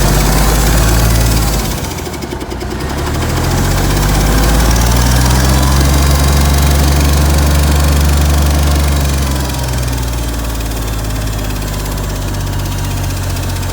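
An abandoned Versatile 895 tractor's engine runs loud and close, a heavy steady diesel rumble that dips briefly then revs up and settles back to a rough idle, with no talk.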